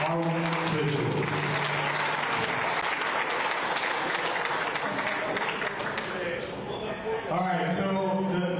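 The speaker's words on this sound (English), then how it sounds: "Big round of applause for our officials." Sustained crowd applause for golf officials at a national championship pairings party, steady thick clapping with some cheering, with voices and a hum audible beneath it.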